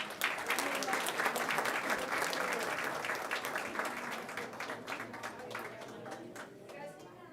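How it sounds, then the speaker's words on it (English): An audience at a school board of trustees meeting applauds visiting students and their principal: a full round of clapping, strongest early, then gradually thinning and fading toward the end. "Round of applause for them."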